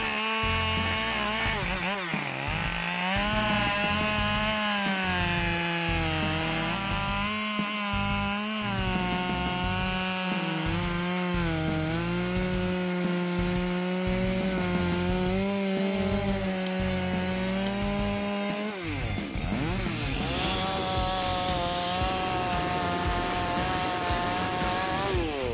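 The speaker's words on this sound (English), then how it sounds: "This chainsaw has impressive cutting power, handling dry wood with ease and exceptional speed." A Husqvarna 572XP chainsaw runs steadily through dry wood, its engine loud and close for almost the whole stretch, with the pitch dipping and rising under load before it changes near the end.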